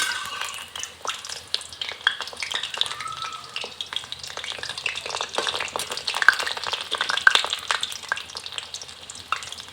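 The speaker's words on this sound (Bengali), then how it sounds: "আমি একটু নাড়াচাড়া করে দিচ্ছি চিকেনগুলোকে।" Chicken pakora sizzles steadily in hot oil while being stirred, with continuous close frying crackle and scattered scraping clicks throughout, no talk.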